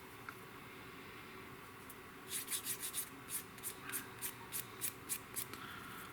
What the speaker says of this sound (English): I'm going to stick with a medium grit sanding stick